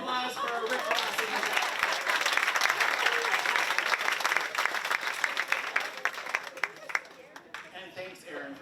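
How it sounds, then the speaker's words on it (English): Applause from a company quarterly meeting audience, sustained and dense for several seconds before thinning into scattered claps near the end, with some voices mixed in. "Big round of applause for Rick Dawson."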